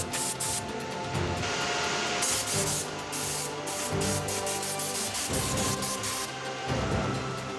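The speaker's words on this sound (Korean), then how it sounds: "솜털의 함량별로 1차 선별된 털을 다시 기계에 넣고 골고루 섞어줍니다." An industrial machine in a Korean factory mixes sorted duck down feathers for padded jackets, producing a steady, loud, dense rushing and rubbing whir that runs continuously with slight surges.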